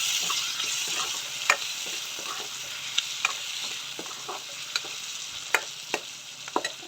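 Broiler chicken meat and tomatoes fry in a pan with a steady, bright sizzle, punctuated by occasional sharp clicks and scrapes as the mixture is stirred.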